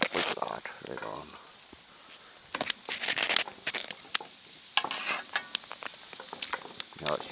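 Thawed meat sizzles in a pan with irregular crackling bursts and scraping clatter, loud and close, under intermittent talk.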